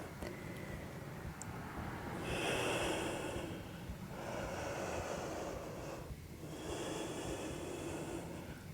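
Slow, deliberate breaths during a vinyasa yoga flow, three long breathy cycles with a soft rushing, snort-like hiss, close and fairly steady over a low background hum, with no talking.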